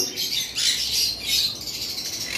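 A breeding pair of cockatiels chirps and squawks in short, fairly near bursts over a couple of seconds, with a soft hiss of background noise and no talking.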